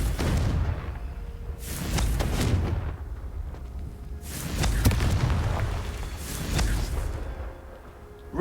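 Confringo blasting spells go off in Hogwarts Legacy, three heavy booming explosions in a row, each a loud burst with a rumbling tail before the next.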